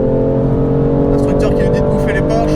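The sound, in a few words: BMW M5 LCI 2021 driving fast on race circuit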